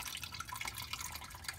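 Oil draining off an aluminum belly pan under a Dodge Charger, Challenger or Magnum 300 SRT8, a faint patter of quick irregular drips and trickles, close by, with no voices.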